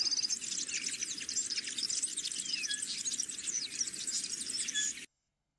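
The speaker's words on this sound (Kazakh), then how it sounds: "Қарлығаштың дыбысын бірге тыңдап көрейік." Swallows calling: a dense, continuous stream of high, thin chirps and twitters at moderate loudness, with no voices, cutting off abruptly near the end.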